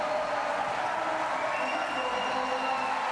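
Thousands of spectators at the London 2012 Paralympic velodrome applaud during a men's track cycling kilo event, a continuous dense wash of clapping and crowd noise heard from within the arena.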